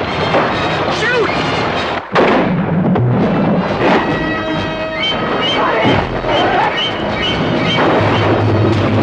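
Gunfire and explosions from a shark-hunting scene in the 1975 film Jaws, with loud impulsive bursts over a dense, continuous bed of music and noise and a sharp crack around the two-second mark; voices are heard amid the action.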